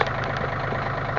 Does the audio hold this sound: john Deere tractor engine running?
yes